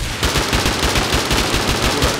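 Rapid automatic gunfire in the survival game Rust, a loud close burst of evenly spaced shots rattling steadily for about two seconds with no talk over it.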